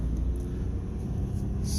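A hot hatch engine drones with a steady low rumble from inside the cabin, a constant engine tone without clear rises or peaks.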